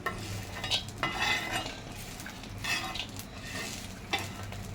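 Mixed sprouts usal roasts on a hot iron griddle while being stirred, with soft sizzling under a few distinct scraping strokes of the spoon, fairly quiet and close.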